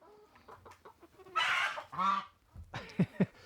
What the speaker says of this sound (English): All right, chickens being chickens.